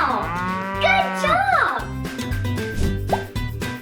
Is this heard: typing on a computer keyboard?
no